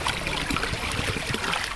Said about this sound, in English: I'm just gonna dump out the water that I got in here.